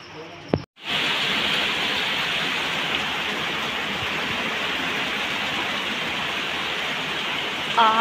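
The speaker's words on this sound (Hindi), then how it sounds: "बहुत ज़्यादा बारिश हो रही है" Heavy rain pours down outdoors in a steady, dense wash of noise that starts after a brief moment of quiet and continues unbroken, loud and close.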